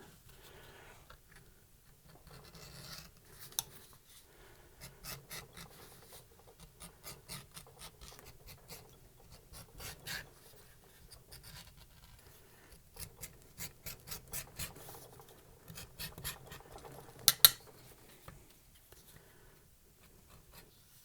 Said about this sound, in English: you need to make sure to bevel your edges in places that you're not going to be able to get to once it's stitched up